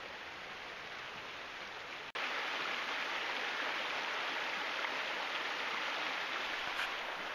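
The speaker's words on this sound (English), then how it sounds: "Little creek flowing here." A small feeder creek in the Great Smoky Mountains backcountry flows beneath a bridge along Hazel Creek, making a steady, full rushing wash of water close by, unbroken apart from one brief dropout.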